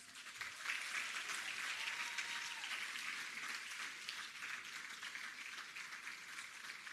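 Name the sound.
audience applause at scholarship awards ceremony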